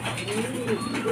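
A racing pigeon coos softly while it feeds, giving a few low, rolling calls close by. A faint voice sounds underneath.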